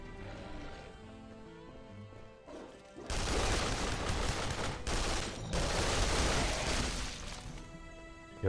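The Ripper machine gun fires in Duke Nukem Forever, a loud, dense automatic burst that starts suddenly after a quieter stretch and rattles on with brief gaps.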